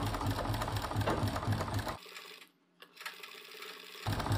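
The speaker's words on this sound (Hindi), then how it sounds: "मशीन के नीचे इस तरीके से कपड़े को रखेंगे आधा इंच इधर की तरफ निकालते हुए, और इस प्रकार से अपनी गैदर्स डालेंगे।" A sewing machine stitching gathers into fabric runs in a fast, rhythmic whirring burst, stops abruptly for about two seconds with a faint click, then starts stitching again.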